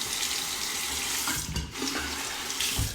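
Water running steadily from a bathroom tap to rinse a titanium safety razor, a close, continuous splashing stream with brief changes as the razor passes through it.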